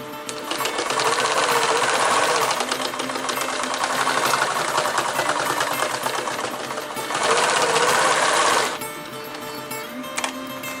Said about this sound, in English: You're going to do another bar tack